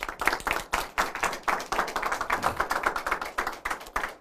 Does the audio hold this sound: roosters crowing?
no